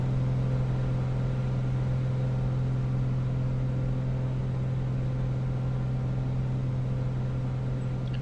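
A small propeller plane's piston engine, running with carburetor heat on, drones steadily from inside the cabin, a constant low hum with no change in pitch and no voices.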